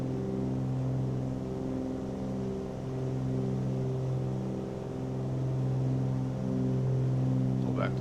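Twin piston engines of a Cessna 414 drone steadily and loud through the cabin as propeller pitch is adjusted, a continuous layered hum with slight swells in level and a brief higher whine near the end.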